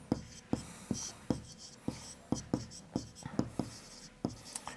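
A pen scratches across paper in short strokes with a regular rhythm of taps and scrawls as math working is written out by hand for a class-six algebra lesson.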